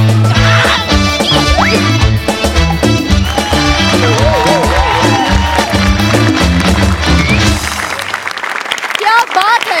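Audience applause and cheering after a Marathi comedy sketch, loud and sustained under music and voices, ending with a sharp burst of claps.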